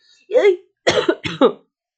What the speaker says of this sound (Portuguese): Eu acabei de tossir no meio da gravação